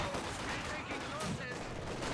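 Mortar barrages and machine-gun fire in a strategy video game, heard as a steady, fairly quiet crackle of gunfire under ongoing commentary.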